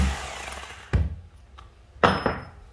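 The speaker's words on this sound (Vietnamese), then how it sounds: "đây là khoan bê tông này" A 220V three-function concrete drill in hammer-drilling mode gives short bursts: a fading motor whir, then two brief loud spurts of hammering with a faint tick between, close by.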